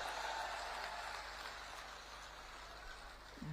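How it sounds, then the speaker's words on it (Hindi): A large political rally crowd applauds outdoors, a steady, faint wash of clapping heard from a distance that continues throughout without a break. "अभय सिंह आगे आओ, जरा आगे आओ, जोर से ताली बजाओ"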